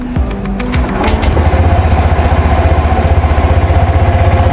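A Honda Beat Street scooter, 2025 model, starts up with a brief cranking burst, then settles into a steady, close, rhythmic single-cylinder idle that putters evenly to the end.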